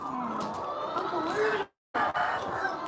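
Indian chickens clucking together at a place where they are being bought, a dense, steady cackle close by that cuts out abruptly for a brief silent moment before resuming just as busily.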